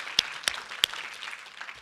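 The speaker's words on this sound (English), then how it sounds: "one more quick round of applause for all the speakers here" An audience at a medical talks session gives a quick, faint round of applause, with a few sharp claps standing out over a thin, brief patter.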